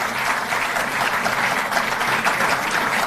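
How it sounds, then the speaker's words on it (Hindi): Loud, steady applause fills the hall from an audience at a Delhi government sports-policy event, a dense, continuous wash of clapping with no talk over it. "जोरदार तालियों से हम सहभागी बने सब।"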